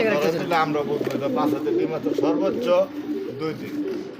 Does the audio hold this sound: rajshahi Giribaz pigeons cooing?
yes